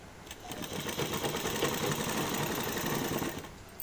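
A sewing machine runs continuously for a few seconds, stitching a kurti seam with a rapid, even mechanical whir and needle chatter, close and alone.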